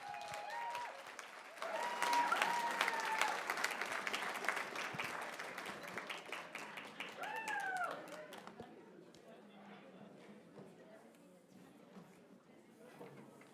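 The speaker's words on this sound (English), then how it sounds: "we can give one more big applause for sure" Applause from guests at a charity benefit evening, a moderately loud burst of clapping mixed with voices and cheers that builds, holds, then fades into quieter murmuring and scattered sounds.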